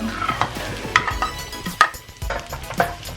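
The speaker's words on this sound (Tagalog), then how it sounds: "Sitay lang natin siya hanggang siya ay maluto at mag-transparent ang ating onion" Onion and garlic sautéing in butter in a pan, sizzling under repeated spoon stirs and light clinks against the metal, near and without speech.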